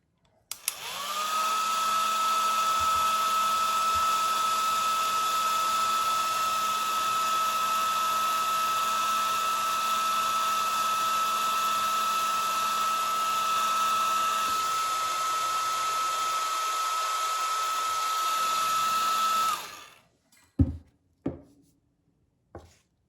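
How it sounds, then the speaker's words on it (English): A hair dryer blows on a watercolor painting of autumn leaves, a steady loud whirring drone running for about nineteen seconds, then switching off and winding down, followed by a few brief knocks. "I'm gonna blow dry the leaves and then add the veins"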